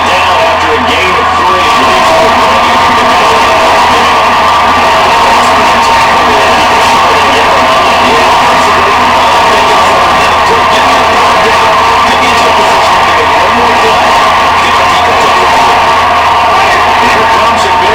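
Roaring football stadium crowd in Madden 23 on PS5, Texans vs Saints, cheering loudly and continuously with whoops and yells as a dense, unbroken wall of noise.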